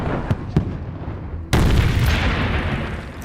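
A vehicle blown up on a World War II film set in Africa, the blast hitting as a sudden loud boom after a couple of distant thuds, followed by a sustained roaring rumble and crackle of debris.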